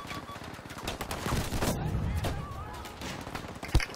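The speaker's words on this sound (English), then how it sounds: "How is he shooting through the smoke?" Gunfire in the video game Battlefield 5, rapid, overlapping shots and bangs layered over busy battle noise, with one sharp close report near the end.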